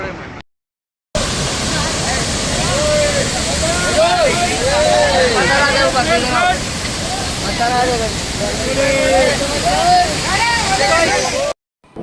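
A waterfall on the Kedarnath mountain trek roars steadily at close range, a loud continuous rushing wash, with a person talking over it throughout.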